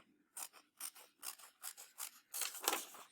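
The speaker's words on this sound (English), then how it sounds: "so you're actually gonna cut this design out." Scissors snip repeatedly through a paper design being cut out for attachment to foam, a close, crisp series of about eight rhythmic cuts alone without talk.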